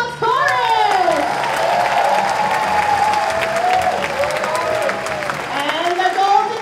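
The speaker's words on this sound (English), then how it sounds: "Let's give it applause for the Blue Moms Chorus!" An elementary school spring concert crowd applauds loudly for a mothers' chorus, steady clapping blended with cheers and children's excited shouts that swell again near the end.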